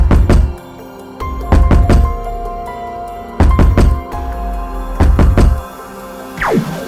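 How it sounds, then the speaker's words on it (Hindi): Someone knocks on a door in a horror story, sounding as loud, heavy thunks in several separate bursts of three or four quick raps with pauses between them. "और तभी दरवाजा ठकठकाने की आवाज आती है"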